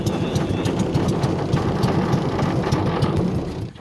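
An engine runs steadily with a rapid chugging rhythm, loud and close, before fading slightly at the end.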